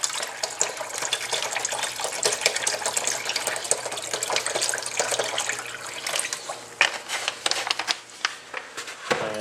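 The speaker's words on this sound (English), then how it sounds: "I'm pouring straight water in. And I'm going to fill it up about 3/4 of the way with the water." Plain water pours in a continuous splashing stream into a container while cleaning an ATV carburetor, steady and close for several seconds, with a few sharper splashes near the end.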